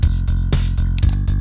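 Programmed drums join a synth bass line in music production software: punchy kick and snare hits with crisp hi-hats over the steady low bass, a loud, busy repeating groove with no voices.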